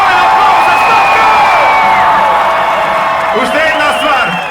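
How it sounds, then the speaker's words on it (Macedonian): A crowd at a lively outdoor celebration in Ohrid, Macedonia, cheers and whoops steadily for a performer, a dense, continuous roar with scattered shouts and voices rising near the end. "Дайте ми голем аплауз за Стопка!"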